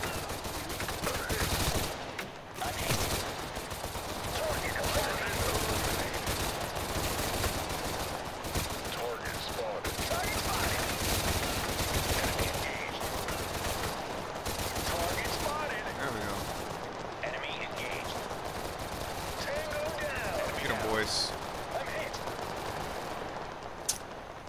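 Soldiers in the video game Total Conflict fire rifles and machine guns in dense, continuous bursts and volleys, with overlapping shots near and far under occasional radio-style voice callouts.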